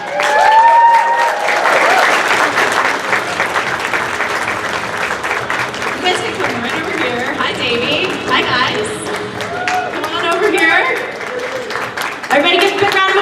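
An audience at a comic convention opening press conference breaks into loud, sustained applause with cheers and whoops, and a voice talks over the clapping.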